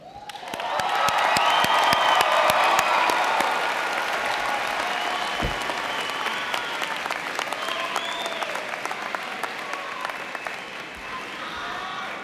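Graduates are applauded at a university health sciences commencement: a large crowd's dense, sustained clapping swells quickly and holds loud and steady, with faint cheers and whoops scattered through it.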